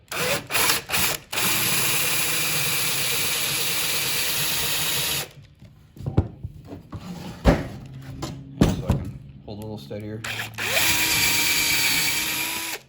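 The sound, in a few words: power drill drilling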